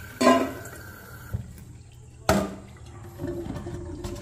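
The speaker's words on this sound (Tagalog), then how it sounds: "Buhos uli ng tubig para malinis na malinis." Water splashes over freshly harvested vegetables in a drainer in two brief pours, with a softer trickle near the end.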